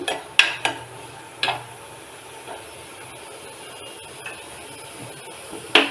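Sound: sautéing tomatoes for kovakka mezhukkuvaratti in a pan

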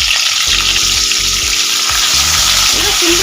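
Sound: flat beans frying in hot oil

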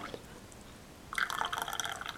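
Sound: pouring tea into a mug

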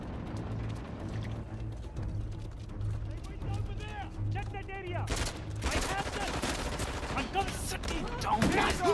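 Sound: gunfire in the video game Uncharted: The Lost Legacy

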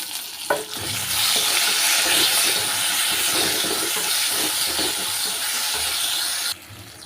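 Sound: tomato and pumpkin frying in a pan

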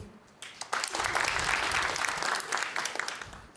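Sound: audience applause at a stand-up comedy show

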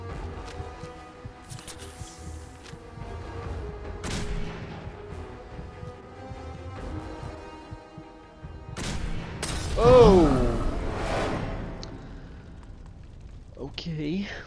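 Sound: gunfire in video game Fallout 4

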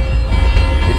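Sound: train passing on opposite track in Microsoft Train Simulator video game

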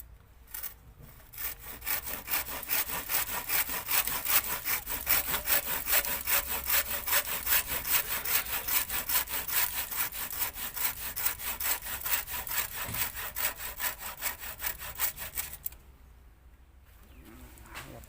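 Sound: saw cutting a tree stump

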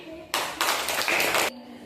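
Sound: children clapping hands

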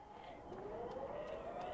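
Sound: siren in the video game The Day Before

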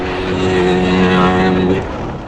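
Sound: buggy ride in Kuwait

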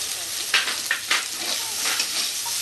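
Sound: onion frying with potatoes in pan

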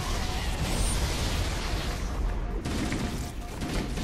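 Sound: gunfire in the video game Halo

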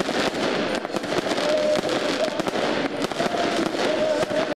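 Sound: fireworks at New Year's celebration

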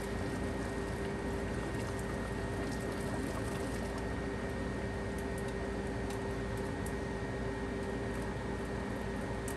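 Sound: draining noodle water into RV sink

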